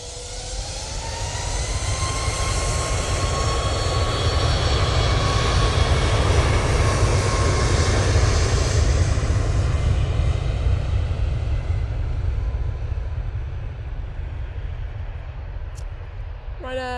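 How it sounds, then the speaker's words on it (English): A Ryanair Boeing 737 MAX 8 roars down the runway on its takeoff roll at Manchester Airport, a loud, sustained jet engine rumble that builds and holds before easing slightly at the end. "Ryanair 737 MAX 8 now on the roll"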